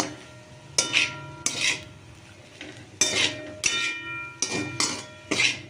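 Chow mein with egg is tossed in a pan on the stove, a utensil scraping and clanking against the metal in distinct bursts, about seven strokes with short pauses between them.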